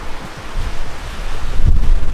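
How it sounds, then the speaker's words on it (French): Steady outdoor wind by the water in Corsica buffets the microphone, a low rumbling roar that swells and gusts, with no voices. "Il y a du vent"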